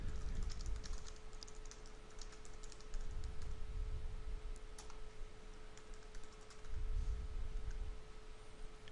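Typing a comment on a computer keyboard: rapid, irregular light key clicks run steadily throughout, quiet and close, over a faint electrical hum and low rumbling thumps.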